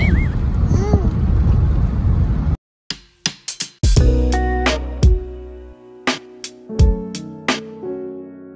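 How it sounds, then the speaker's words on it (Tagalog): Heavy wind buffeting the microphone with a loud rumbling roar for a couple of seconds, then cutting to a sequence of sharp clanks and ringing tones. "Mahangin kasi."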